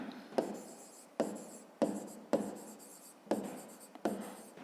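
Pen on notebook paper as an answer is written out for a fifth-grade maths exercise: six short bursts of scratchy strokes, each starting sharply and fading, close and quiet with no talk.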